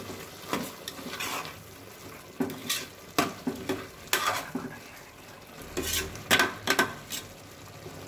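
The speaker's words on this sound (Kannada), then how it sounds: "ಇದನ್ನೆಲ್ಲ ಒಂದ್ಸರಿ ಮಿಕ್ಸ್ ಮಾಡ್ಕೊಳ್ಳೋಣ" A spoon stirs mushroom biryani masala in a pan, producing uneven scraping and clinking strokes over a low sizzle, close and moderately loud.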